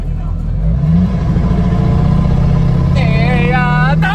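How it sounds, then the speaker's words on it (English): A straight-piped Duramax pickup truck doing a burnout in the dirt makes a loud, raw engine roar that revs and holds high, with a rising tire squeal near the end and voices faintly behind it. "should I do a burnout by him? Yeah, do it in the dirt."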